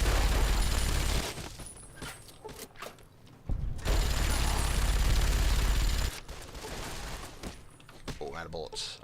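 Video game gunfire in loud sustained bursts, broken by pauses and clicks, with a voice speaking over parts of it.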